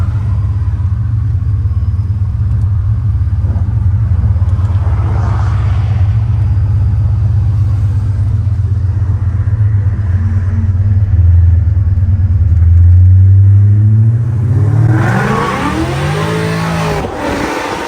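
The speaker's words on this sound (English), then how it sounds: "What's nice about the stock supercharged motors are that they are kind of tame when you're not stepping on" A 1960 car with a 700-plus horsepower supercharged GT500 engine swap cruises with a deep steady rumble, then revs hard and climbs in pitch near the end, loud and close throughout.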